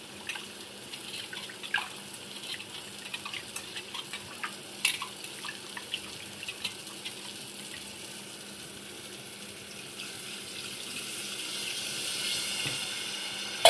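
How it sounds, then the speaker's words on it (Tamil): Tamarind is squeezed and dissolved in water for a Tamil appalam kuzhambu curry. Close, soft splashing and dripping continue with occasional sharper drips, growing into a steadier watery wash toward the end. "இப்போ வந்து புளி கரைச்சி சேர்த்துக்கலாம்."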